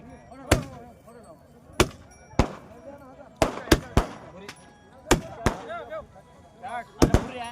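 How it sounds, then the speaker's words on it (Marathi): Firecrackers go off at a cattle market after a deal for a young bull, a series of sharp, loud bangs in irregular succession, some paired quickly, with crowd voices and talk underneath. "हा बघा मित्रांनो, फटाक्याच्या आतिषबाजीत हे सौदा झालेला आहे."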